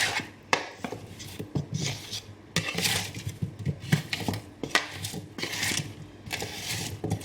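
Potato wedges being tossed with spices and sea salt in a bowl, heard as repeated close scraping, rubbing and dull knocks against the bowl in irregular bursts.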